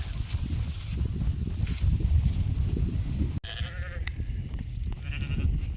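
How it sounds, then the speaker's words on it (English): Young lambs bleat on a farm, a few short calls rising over a steady rustling, shuffling background of livestock movement, heard fairly close with no talking. "Got our 2 newest lambs right there."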